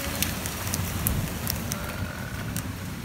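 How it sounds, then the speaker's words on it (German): Rain suddenly comes down outdoors on a summer evening after intense heat, a steady broadband wash of falling drops with a few sharper patters, fairly close and continuous with no talk. "jetzt regnet es einfach plötzlich"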